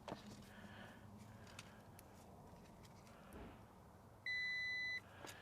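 A multimeter gives one short, clear continuity beep lasting under a second, standing out against quiet background noise and faint handling clicks while a fan fuse is tested.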